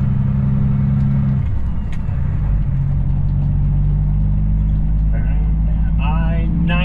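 Heavy semi truck rolling along under steady low engine drone, with the diesel pitch shifting as it pulls away and a higher whine rising near the end; a voice talks over it.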